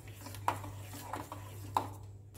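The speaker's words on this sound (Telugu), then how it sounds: "ఈ పాలు పోసుకుంటూ ఇట్లా తిప్పుతా కలపాలి, లేకపోతే ఉండలు కట్టేస్తాయి అన్నమాట" Custard and milk stirred in a pot, a spoon scraping and knocking against the metal in a few soft, spaced clinks over a steady low stove hum.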